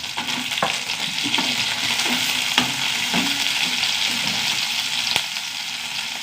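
Dried red chilies and green chilies fry in hot oil with a continuous close sizzle, broken by occasional sharp clicks and stirring scrapes.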